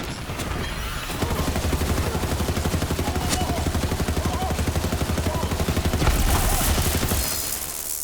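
Rapid, sustained assault rifle fire from Borderlands 3 rattles on for several seconds in a dense, even rhythm of sharp shots, loud and alone without talk.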